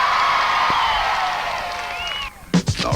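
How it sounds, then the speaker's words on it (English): A crowd at the 1987 BBC Radio 1 Roadshow in Plymouth cheers and whoops with a dense, steady roar, fading slightly before a few louder shouts near the end. "A big round of applause for Smiley Miley over here."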